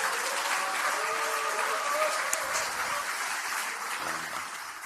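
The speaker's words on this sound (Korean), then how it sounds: "박수 한번 부탁드립니다." Sustained applause from a crowd at a political party joint meeting, a continuous dense wash of clapping held at a steady level from start to finish.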